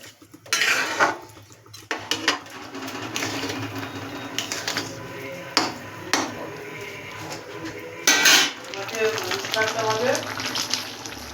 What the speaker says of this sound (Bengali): একটু নাড়াচাড়া দিয়ে এর মধ্যে জল দিয়ে দেব।